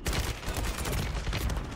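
Dense, rapid gunfire in a video game rattles continuously and loudly, with sharp overlapping shots and no talk over it.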